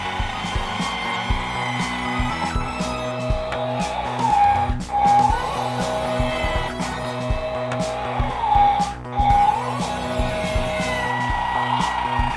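A toy dump truck worked by buttons gives steady motorized whirring with tonal whines and rattling, loud and continuous for about twelve seconds, with two brief louder mechanical surges along the way.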